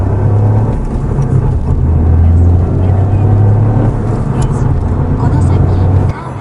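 A Toyota GR Yaris accelerates on a highway, its engine and road noise a loud, steady low drone with a rising tone from inside the cabin, while someone talks over it.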